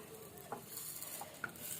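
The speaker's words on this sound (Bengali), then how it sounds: "একটু এটা ভাজা হবে।" Something dry-frying in a pan with no oil on raised gas heat, a faint soft sizzle broken by a few light scraping stirs and small clicks, quiet and close.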